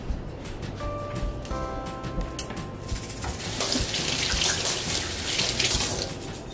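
A tap runs into a sink for hand washing at home. A brief thin tone comes first, then the water rushes in about halfway through and keeps pouring steadily, close by.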